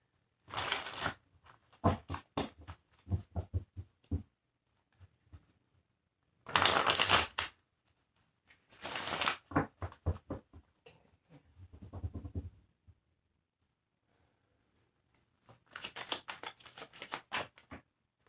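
Tarot cards being shuffled come in several short, crisp riffling bursts close to the microphone, separated by quiet pauses, with softer card handling in between.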